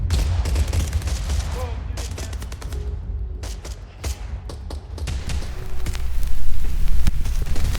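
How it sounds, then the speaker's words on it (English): Automatic weapons fire crackles in bursts during Vietnam War combat on a rocky ledge, sharp repeated shots and thuds at moderate distance, loud and irregular, with voices heard faintly in the background. "The engagement lasted several minutes, mostly automatic weapons and grenades."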